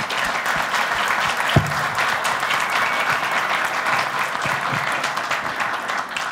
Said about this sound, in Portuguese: eu gostaria de pedir uma salva de palmas para os organizadores